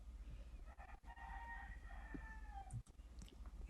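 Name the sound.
chickens clucking and a rooster crowing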